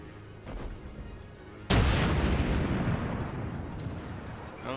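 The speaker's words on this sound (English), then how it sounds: "Starting to get some shots out now" A warship's naval guns fire in World of Warships gameplay, one sudden heavy boom followed by a long rumbling roar that slowly fades over low background noise.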